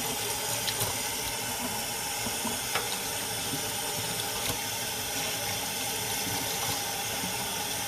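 Warm tap water runs steadily from a faucet into a sink, a continuous close splashing rush with small clinks, no voices.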